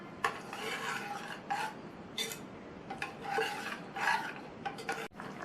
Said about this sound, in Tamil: அடுத்து இதில் வடிகட்டி வச்ச வெள்ளைக்கரைசலை சேர்த்து நல்லா கலந்து விட்டுறலாம்.